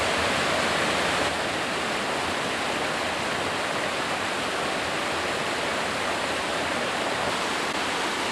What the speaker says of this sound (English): And some little rapids and tiny falls. What's pretty is the sound of that water.